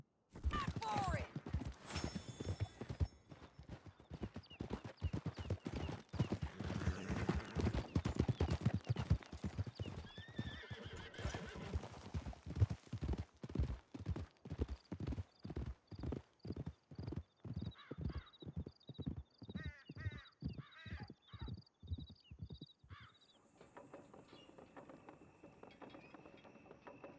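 Horses galloping in Red Dead Redemption 2, a fast continuous clatter of hooves with whinnies, occasional gunshots and voices in the first half, the hoofbeats slowing and thinning out toward the end.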